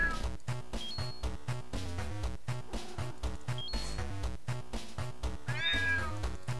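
Cartoonish cat meows from the video game Clumsy Paws, a few short cries rising over bouncy, rhythmic game music.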